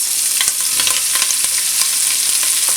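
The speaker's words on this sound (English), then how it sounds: "And we're just going to let them sweat in there with the sausage." Green pepper and onions fry with kielbasa sausage in a pan, a steady close sizzle with scattered crackling pops running throughout, no voices.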